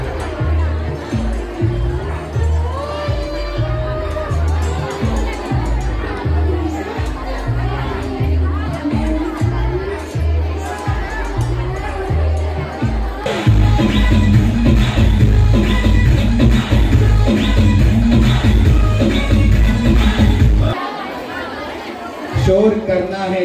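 Loud, dense crowd chatter fills a hall at a college event, many voices overlapping in a steady hubbub that swells louder midway, then drops briefly near the end.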